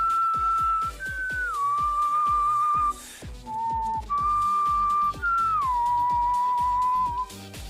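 Someone whistles a simple melody of long held, sliding notes over a steady, rhythmic plucked backing beat, close and clear with brief pauses between phrases.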